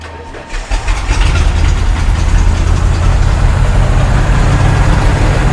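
An old junk truck with its catalytic converters cut out cranks and fires up, then settles into a loud, steady, rumbling idle close by.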